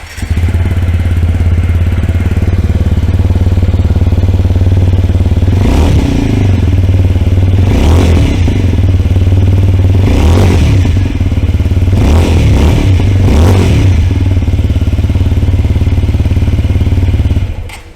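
A TVS Apache 160 motorcycle engine idles with a steady low thump, then revs sharply several times in quick bursts before easing back to idle.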